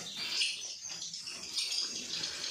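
Swiftlets leave a nesting house, their wings flapping in a steady flutter with faint high chirps. The sound stays moderately close and continuous, and nobody speaks.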